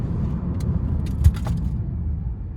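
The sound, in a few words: Mercedes SLS AMG braking hard from 35 mph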